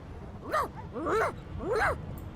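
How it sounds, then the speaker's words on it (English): A dog in the game Divinity Original Sin 2 gives three short whines, each rising and falling in pitch with brief pauses between them, close and clear over a quiet background. "The dog whines and continues pawing at its nose."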